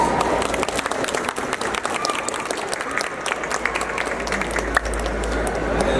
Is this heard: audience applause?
yes